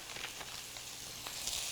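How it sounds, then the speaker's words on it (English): Pork chops sizzling in olive oil in a pan, a faint steady hiss with small pops and crackles, close and without talk. "Listen to that sizzle."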